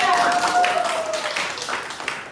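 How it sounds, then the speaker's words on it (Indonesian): A classroom of students applauding group 3, with dense, fairly loud clapping from many hands over a short stretch, steady throughout, and some voices mixed in. "kita kasih aplaus untuk teman kita kelompok 3"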